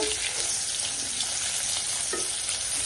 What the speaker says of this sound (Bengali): আমি আয়ুষের জন্য একটা মাছ ভাজি করছি